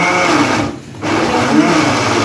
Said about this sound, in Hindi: ये जग में देखें इस तरह ग्राइंड कर लें